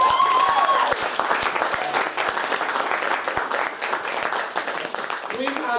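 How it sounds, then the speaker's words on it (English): An audience applauds vice presidential candidates at a 2015 student election event with steady, dense clapping from a crowd that is fairly loud throughout, while a voice speaks over it. "Let's give our Vice Presidential candidates a little round of applause."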